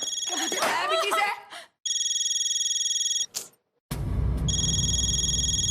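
A telephone rings loudly in repeated electronic trills with short silent gaps between them. Someone talks over the start, and household noise runs under the final ring.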